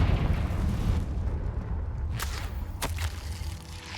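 A Confringo fire-spell explosion in Hogwarts Legacy, a loud rumbling blast at the start that tails off, followed by two sharp cracking impacts a little later.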